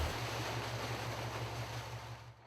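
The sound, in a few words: water being dumped from a fire tender's passenger side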